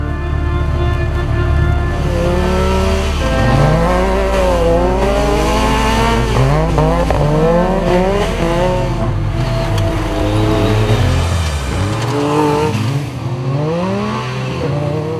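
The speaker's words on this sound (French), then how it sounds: "les 2 séries Yamaha vont s'avancer l'une après l'autre sur la ligne de départ" Several Yamaha SSV side-by-sides on an ice race track at Alpe d'Huez rev their engines loudly and continuously, with overlapping rising and falling engine whines from multiple machines close by.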